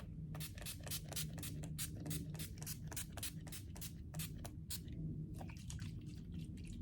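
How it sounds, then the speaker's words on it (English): Rapid bursts of makeup setting spray hiss from a spray bottle in a quick irregular series, close up, over a low background hum. "we're gonna do setting spray again"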